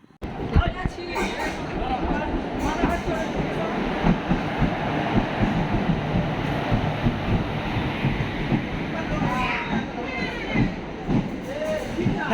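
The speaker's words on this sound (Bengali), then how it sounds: "তো ফাইনালি ট্রেনটা এসে গেছে, তো দেখতে পারতেছেন যে ট্রেন চলে এসছে।" A train pulls into a busy station in Kolkata, a steady rumbling roar of wheels and carriages with squeals near the end, while a crowd chatters and people talk throughout.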